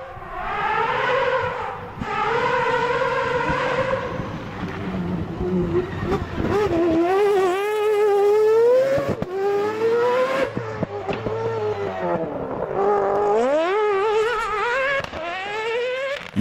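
A Rivet Mazda rally car on an off-road course revs loudly and then passes, its engine rising and falling through several gear changes, with a narrator speaking over part of it.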